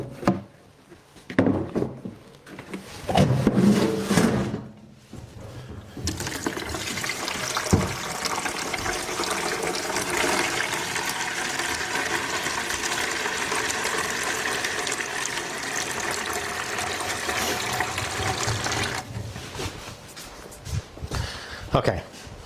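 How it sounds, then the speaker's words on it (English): Cold water runs steadily from a tap, filling a container to cool a baked ginger cake, a continuous rushing flow in the middle preceded by some clattering handling noises and ending with a brief stop. "I'm just going to pop it in a bit of cold water."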